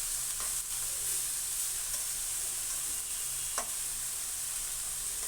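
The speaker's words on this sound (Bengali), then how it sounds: "এখন ভালোভাবে এটাকে নাড়াচাড়া করব, এটাকে আস্তে আস্তে ভাজবো" Chopped cabbage and flat beans frying slowly with shrimp in a pan, a steady hiss of sizzling oil broken by a few soft stirring scrapes, close and even throughout, no voices.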